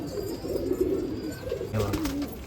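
Pigeons coo at a pigeon show in Nashik, soft low rolling calls close by that overlap across the moment, with faint background noise.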